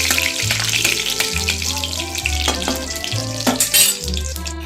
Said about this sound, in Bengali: তেল গরম হয়ে গেছে এবার আমি দিয়ে দিচ্ছি দুটো তেজপাতা দুটো এলাচ আর দুটো দুটো দারচিনি দিয়ে দিলাম দিয়ে এটাকে হালকা ফ্রাই করে নিতে হবে